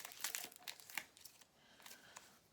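A tarot card is drawn and laid down, a quick papery crinkle with soft flicks and rustles close by, fading to a quieter rustle toward the end.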